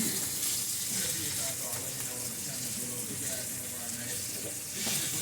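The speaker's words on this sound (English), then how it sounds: "Try not to stir as much when I'm trying to brown this last one that I put in there." Italian sausage sizzling with onion and green pepper in a one-pot dish, a steady close crackling fry running throughout with faint stirring mixed in.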